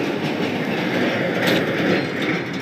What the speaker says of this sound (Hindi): गाड़ी सब इतना धां धूं धी करके पार हो जाता है